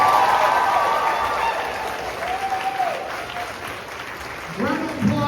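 Audience applause at a high school spring choir concert, a loud sustained clapping wash that gradually thins, with voices talking and calling out over it near the end.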